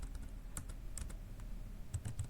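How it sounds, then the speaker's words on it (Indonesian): Someone types on a computer keyboard, a quiet, uneven run of light key clicks and taps close by, soft overall and with no voices. "Ini nanti saya tinggal ketikkan tadi"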